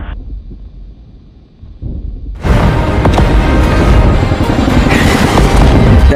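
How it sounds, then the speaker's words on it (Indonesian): A big explosion in an Afghan war film strikes Taliban soldiers: after a low rumbling lull, a sudden loud blast erupts and rolls on as a sustained, roaring wall of noise. "sebuah ledakan besar terjadi"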